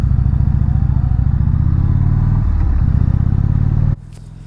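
A motorcycle engine runs steadily and loudly while riding, a continuous mid-pitched drone with faint clatter that drops abruptly in level near the end.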